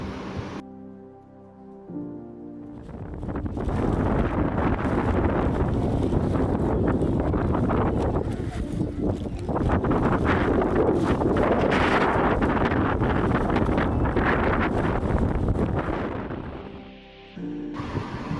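Strong wind sweeps across the Ponmudi hills, roaring and buffeting the microphone loudly and continuously for most of the stretch before easing off near the end.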